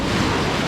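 Sea waves surge onto a sandy beach, a loud, full roar of surf and churning water with wind blowing across the microphone, steady and close throughout the short moment.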